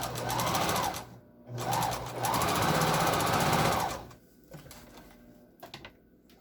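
Sewing machine stitching the layers of an N95 face mask, running in loud, steady bursts from about middle to edge with brief pauses between runs, then stopping as quieter handling noises follow.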